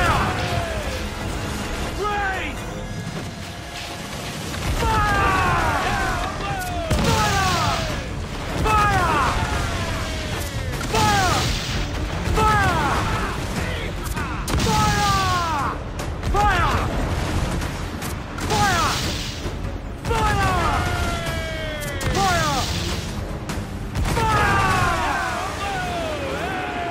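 Ship cannons fire repeatedly in the pirate game Assassin's Creed Black Flag during a battle with a Man o' War, heavy booms recurring every few seconds amid dense battle noise, with voices talking throughout.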